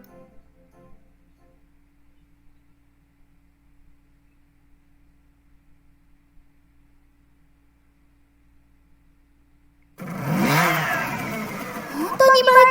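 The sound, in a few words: scooter engine starting in a visual novel video game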